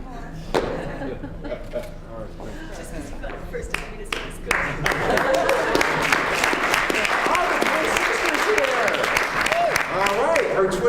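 Audience applause at a college elevator pitch competition, starting with scattered claps and swelling into sustained clapping from a room full of people, with voices mixed in.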